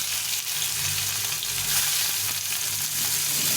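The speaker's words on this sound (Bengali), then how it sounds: "দিয়ে পেঁয়াজ কুচিটা ভেজে নেব।" Chopped onion fries in hot oil with dried chillies and potato in a pan, a continuous loud hiss and crackle with faint stirring scrapes throughout.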